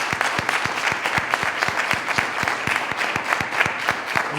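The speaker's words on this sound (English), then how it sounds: "one more round of applause for these amazing students" A school committee meeting audience claps steadily for students, a dense even patter of many hands with sharp individual claps near the front, no talking.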